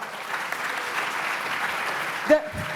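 Applause from the audience at a conference panel on society's values, a moderate, even clatter of clapping that fades as a voice briefly speaks near the end.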